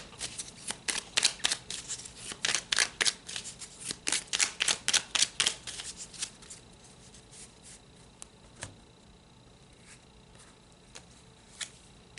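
Tarot cards are shuffled in a quick flurry of papery flicks and snaps, then settle into a few sparse, soft card slides and taps as cards are pulled.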